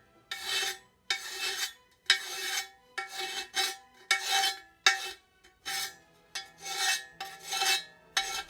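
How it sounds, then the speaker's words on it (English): A metal hand file rasps across the lip of a bent aluminum alloy wheel rim in a garage, giving about ten close, loud, bright strokes in a steady back-and-forth rhythm with short pauses between them. "I'm going to start with the file and take down the highest points here."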